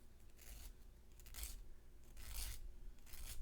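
Quiet, rasping strokes of a sanding stick scrape back and forth across a metal pendant in a few slow, uneven passes.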